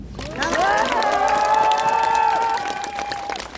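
Rally crowd on the Gyeongui Line Forest Path in Mapo cheering loudly and steadily, with high shouts and whoops rising over broad clapping for about three seconds before easing slightly.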